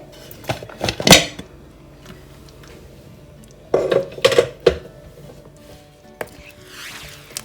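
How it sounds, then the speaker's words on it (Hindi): A metal pressure cooker lid is unlocked and lifted after the steam has been let out, in a home kitchen making chicken haleem with lentils. Two separate bursts of close clanking and rattling metal come through, with quiet pauses between them. "तो अब मैं कुकर को खोलती, मैंने इसकी भाप निकाल दी है"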